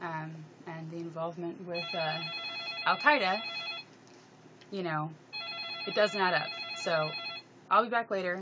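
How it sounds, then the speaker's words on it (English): A telephone rings in repeated bursts of bright electronic trills during a talk about Syria, sounding loudly over and between a man's continuous speech. "I apologize for the phone"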